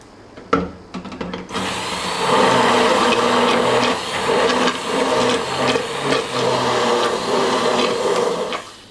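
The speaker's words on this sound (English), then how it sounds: "Next step is to blend this." A blender whirs through cooked curry base of onion, tomato and juices, starting after a short clunk and running loud and steady with grinding, fluctuating texture for several seconds.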